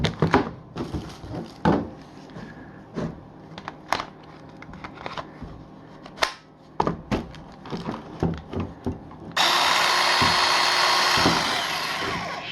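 A chainsaw powered by a Makita battery: scattered knocks and handling clatter give way to a sudden, loud, steady whine as the motor runs for the last few seconds.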